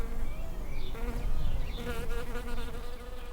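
Steady insect buzzing from bees, a continuous droning hum that wavers in pitch as individual bees pass close by, with no voices.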